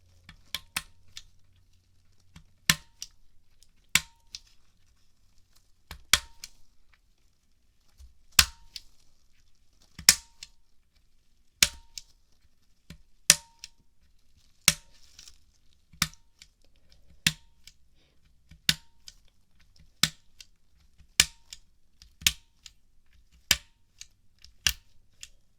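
Crisp, sharp mechanical keyboard switch clicks spaced slowly and evenly, each one a distinct tap against near silence, with about fifteen in a steady, unhurried rhythm.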